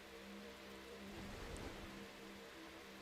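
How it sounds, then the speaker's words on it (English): Torrential rain pours down during a stock car race at Atlanta in a racing video game, a steady broadband hiss of heavy downpour holding constant throughout with no talk. "Big torrential downpour."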